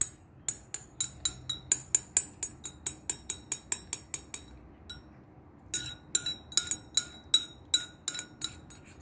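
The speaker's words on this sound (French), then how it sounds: "Vous voyez comment je suis en train de mélanger." Metal spoon stirring tea in a cup, giving rapid, evenly spaced clinks against the sides in two bursts separated by a short pause, close and alone.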